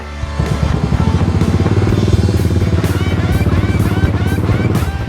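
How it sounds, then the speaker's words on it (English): A Royal Enfield motorcycle engine idles loudly and steadily with a rapid, rumbling throb, close by, and no one speaks over it. "It's always happy when your motorbike starts"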